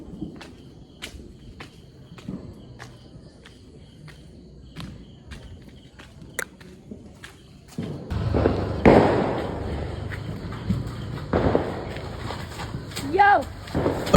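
Firecrackers set off for the Vishu 2025 festival: a string of sharp, evenly spaced pops rattles on for several seconds, then gives way to a louder, noisier burst with people talking nearby.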